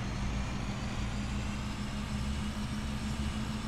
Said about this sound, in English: God damn, this Chevy sounds beautiful.